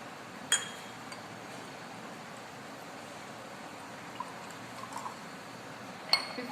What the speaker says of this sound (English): take 50 ml of distilled water in arsenic test apparatus